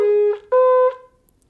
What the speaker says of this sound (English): Shvarim is supposed to sound like this.